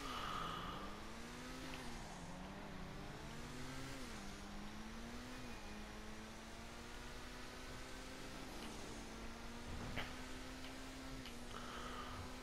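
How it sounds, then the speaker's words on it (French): Grotti Turismo Classique car in GTA 5 Online driving along a street, its engine tone rising and falling steadily and continuously with gear changes, loud and close, with brief clicks near the end and no talk. "On va aller tester vite fait le véhicule dans la rue"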